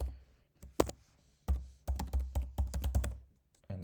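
Salesforce login credentials are typed on a computer keyboard, close and fairly quiet, starting with a few separate keystrokes and then a quick irregular run of clacking taps with short pauses between groups.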